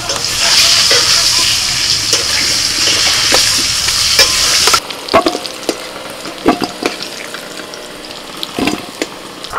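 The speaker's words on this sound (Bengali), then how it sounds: "আমি আলুটা একটু লবণ হলুদ দিয়ে ভেজে নিচ্ছি" Potato pieces frying with salt and turmeric in a home kitchen, a loud close sizzle with stirring scrapes that drops to quieter scattered clatters and crackles partway through, no voices.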